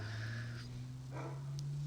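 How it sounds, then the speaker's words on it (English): A dog barks in short bursts indoors over a steady low electrical hum, moderately loud and close, with no one talking. "Bark, bark, bark."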